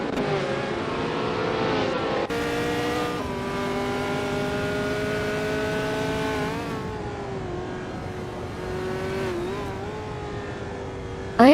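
A 1968 Eagle Mark V race car roars in a racing video game, its engine note holding a steady high pitch, then dropping and climbing through gear shifts, loud and continuous with no talk.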